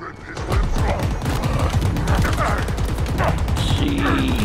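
Scrap cannon fire in Halo Infinite, a dense rapid stream of loud crashing impacts and clattering bursts, steady and close, with scattered combat effects over it.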